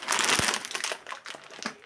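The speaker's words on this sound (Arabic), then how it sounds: "جبت بقى كيس من ده، اللي هي المكرونه دي،" A plastic bag of ring-shaped pasta crinkles up close, giving a quick burst of sharp rustling that trails off into smaller crackles.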